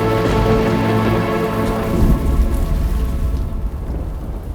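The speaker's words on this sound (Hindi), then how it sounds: "स्वामी, प्रतीत हो रहा है तीव्र वर्षा आने वाली है।" Heavy rain pours down steadily and loudly, with thunder rumbling through it and a low tonal background underneath.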